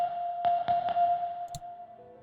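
A sine tone processed with reverb holds as a steady pitched hum, broken by a few clicky note onsets that smear into a wash of reverb tail, moderately loud with no voices.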